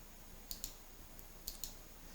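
Sharp computer mouse clicks during shipment-entry software use, two quick pairs about a second apart, close and quiet against a low background hiss.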